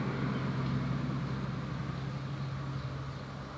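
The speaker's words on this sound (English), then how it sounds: "that was a really loud truck or car" A loud truck or car passing nearby outdoors, heard as a broad engine rumble and road noise that slowly fades over a few seconds, with no talking.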